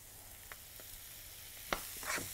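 Onion and garlic with hot peppers fry quietly in a pan, a faint low sizzle with a few soft stirring taps and one sharper scrape of the spoon near the end.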